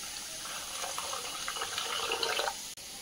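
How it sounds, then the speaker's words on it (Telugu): Water pours into a bowl of ground herb paste for pani puri, a steady splashing trickle lasting a couple of seconds before cutting off. "ఇందులోనికి కొన్ని వాటర్ కూడా యాడ్ చేసుకుందాము."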